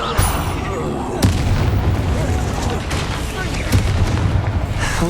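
Confringo spell explosion from the Hogwarts Legacy video game: loud booming blasts over dense battle noise, with a sharp burst near the one-second mark and another near four seconds, and voices shouting underneath.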